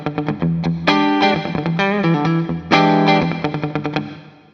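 A Schecter Synyster Gates headless electric guitar on its in-between pickup position, giving a funky, coil-tapped-sounding tone: choppy rhythmic strummed chords and short muted stabs played through effects, loud and close, with no voice.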